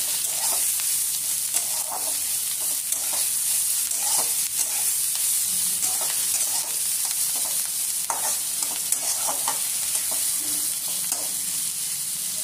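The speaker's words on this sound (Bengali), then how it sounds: "এদিকে জাস্ট আমি হালকা ভেজে নেব" Ingredients including ginger lightly frying for white chicken korma, a steady close sizzle with occasional stirring clinks, no voices.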